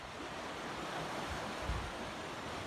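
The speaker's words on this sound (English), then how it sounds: "you can see there's quite a lot of flow there. That's the lock being emptied" Water rushes steadily out of a canal lock as it is emptied, a broad continuous roar of turbulent flow with no talk.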